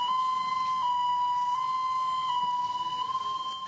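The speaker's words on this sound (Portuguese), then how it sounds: "Ele liga a sirene e sai com o carro." Police car siren wails steadily and loudly nearby, a sustained tone with slight undulation running throughout, as a police vehicle drives off.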